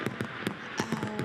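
Silver Multi-Flash firework shells bursting at a fireworks championship in Plymouth, UK: a rapid irregular series of sharp crackling pops and flashes, fairly close and loud, with no voices over it.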